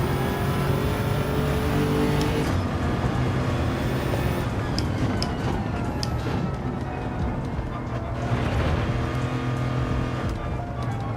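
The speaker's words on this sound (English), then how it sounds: "That turbo spools up so fast, like once if it hits 6 grand, it's just like it's over with." A race car's engine in Gran Turismo 7 revs hard as its turbo spools up, a continuous loud roar with shifting pitch and a brief dip partway through, dense and close throughout.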